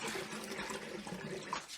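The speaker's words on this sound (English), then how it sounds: "I'll pour that in as well. That's another 10 litres of just water" Water pouring steadily into a wine kit fermenter, about ten litres added to a Shiraz kit batch, a continuous close rushing and splashing with no pauses.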